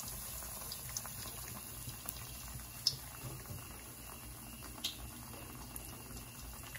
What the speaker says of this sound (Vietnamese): Chiên, chiên cho hết.